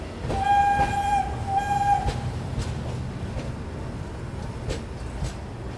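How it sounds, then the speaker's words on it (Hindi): A train departs New Jalpaiguri station with a steady rumble of rolling wheels and carriages, a horn tone near the start, and a few faint clanks over continuous station noise. "बैक टू बैक डिपार्चर देखिए आप न्यू जलपाईगुड़ी स्टेशन से"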